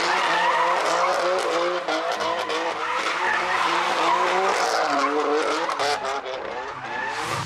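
A 600 hp BMW M4 drifting, with long wailing tire squeal over a roaring exhaust, loud and sustained throughout.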